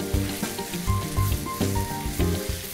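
Empanada filling browning in a hot pan gives a steady, close sizzle and crackle with occasional stirring bursts, and no one speaks.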